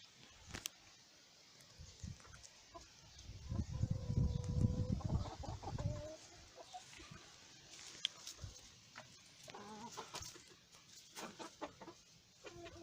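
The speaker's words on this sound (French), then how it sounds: "Donc là nous sommes dans le poulailler." Inside a henhouse, chickens cluck and murmur at a moderate distance, with a louder burst of low clucking and rustling midway, then quieter scattered calls and small knocks.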